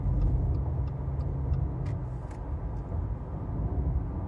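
Inside a 2018 Subaru Crosstrek at 80 km/h, a steady low road rumble and tire noise fill the cabin evenly, with faint ticks over the hum and no voices.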